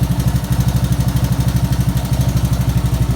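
A 1984 Honda ATC 200s three-wheeler idles right after its first start, a loud, close, steady single-cylinder putter with even rapid pulses throughout.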